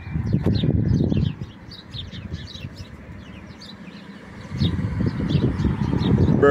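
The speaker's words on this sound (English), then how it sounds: "Bird in the bushes." Small birds chirp and tweet in quick bursts from bushes at a shopping centre in Dunstable, UK, fairly close, over a low rumbling engine that swells at the start and end.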